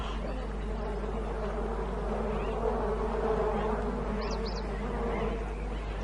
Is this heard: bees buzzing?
yes